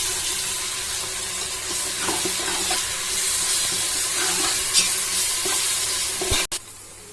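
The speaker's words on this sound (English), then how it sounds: "teaspoons of ginger garlic paste and 1 teaspoon of Cummin seed powder. And I'm going to let it fry again." Ginger garlic paste and cumin seed powder sizzle steadily in a pan for a beef kofta curry, with soft stirring scrapes and a few sharp clinks near the end, no talking.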